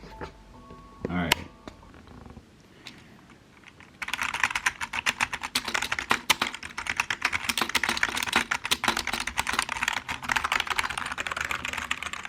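Keys clattering on an LVLUP Pro gaming keyboard with LED keys: after a few seconds of quiet handling noise, rapid close typing starts and continues in dense, even bursts to the end.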